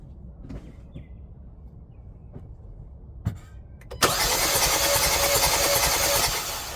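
A 2018 Hyundai Santa Fe Sport engine with a dead cylinder during a compression check, quiet ticking and clicks before the engine cranks and catches, then a loud, steady running roar close by.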